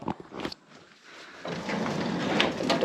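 A barn door on a goat farm creaks and slides open with a few knocks and scrapes at the start, followed by a soft rustling bed of noise.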